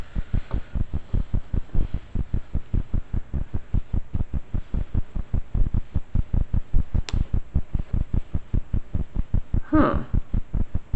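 A sewing machine runs in a steady, rapid rhythmic thumping, close and fairly loud, with an evenly spaced pulse throughout and a couple of brief sharp clicks late on.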